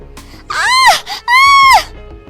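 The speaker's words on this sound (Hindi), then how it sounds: "उसके पल्लू में आग लग जाती है और वो जोर जोर से चिल्लाने लगती है" A cartoon woman screams loudly as her sari catches fire, two long, high wailing cries close up with a short break between them.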